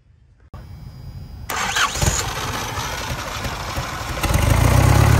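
An Isuzu 4KH1 diesel engine cranks and starts after a short quiet moment, then settles into a loud, steady close-up running rumble that grows slightly stronger toward the end.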